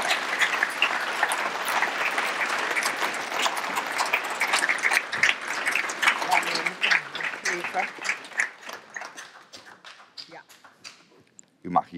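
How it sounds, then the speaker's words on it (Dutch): Warm applause from an audience fills the room, dense at first, then thinning into scattered claps as it fades out. "En u uitnodigen om ze met een warm applaus te onthalen"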